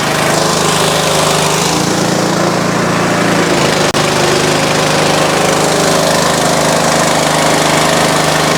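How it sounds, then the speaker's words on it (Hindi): The engine of a mini rice mill machine runs in a loud, steady, close drone that continues unbroken. One short click sounds partway through. "इंजन फाइनली चालू हो गया है।"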